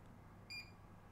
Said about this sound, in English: So that's your post beep.